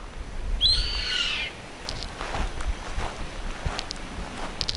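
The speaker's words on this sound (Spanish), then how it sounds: "lo único que se escucha acá son esos dos pájaros que me están gritando desde que llegué" A bird's shrill, wavering call rings out once near the start, followed by faint scattered chirps over a quiet outdoor hiss.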